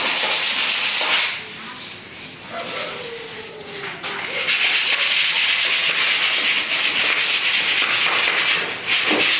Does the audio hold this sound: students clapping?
no